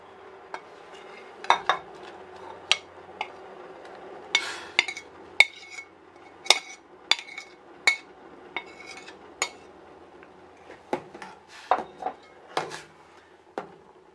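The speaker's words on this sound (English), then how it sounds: "Then just mix all that together until it's all liquid." A utensil stirs flour into a hot, just-boiling mixture in a pot over medium heat, giving faint, irregular clinks and scrapes against the metal with quiet gaps between them.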